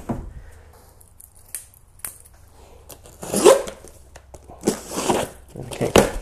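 Scissors snip at material during a New Edge Mustang headlight replacement, a few separate close crunching cuts with brief rustling between, in an otherwise quiet space.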